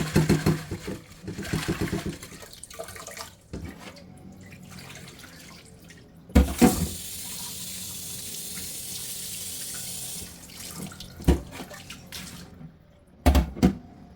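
Water runs from a tap in bursts, splashing and rinsing, with a steady stretch of flow in the middle and short clattering pauses between.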